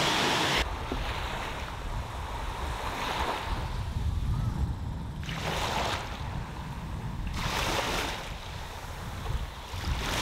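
Surf washing onto a beach in Thailand, a steady rushing wash with periodic swells of breaking waves, loud and close, with some wind buffeting the microphone and no talking.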